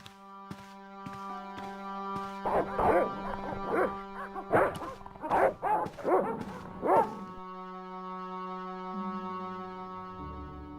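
Several dogs bark in a cluster of sharp, repeated yaps over a steady musical drone in the Broken Sword adventure game, the barking bursting mid-scene then stopping as the music continues.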